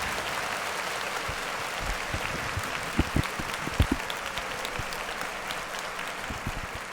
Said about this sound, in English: Clap it up for me, man.